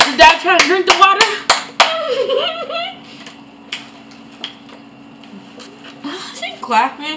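A person claps hands a few times in quick, sharp bursts near the start, amid loud talking and coughing from people reacting to eating a very spicy chip.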